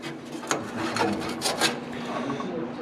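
Rust is scraped off the sheet metal of a 1972 Nova's cowl and firewall in uneven rasping strokes, close and moderately loud.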